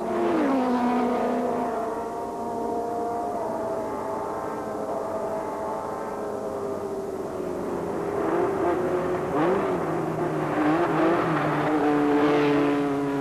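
Race cars in a motor race drone steadily nearby, engine pitches rising and falling as they pass and shift gears over the whole stretch.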